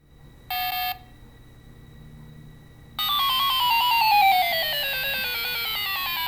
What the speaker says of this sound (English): Now what you're hearing is playing through the speaker, the factory 2C speaker.